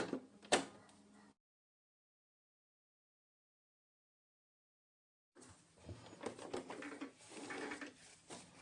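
A sewing machine runs with thick thread: a short burst of stitching, a gap of silence, then a longer run of rapid mechanical clatter. The sound is close and moderately loud.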